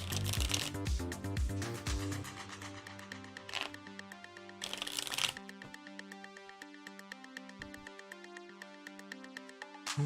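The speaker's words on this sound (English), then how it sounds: "I've just got a few more shuffles, then I'll give this deck a nice clean cut." A deck of tarot cards riffle-shuffled in a few quick bursts, crisp fluttering snaps layered over steady background music.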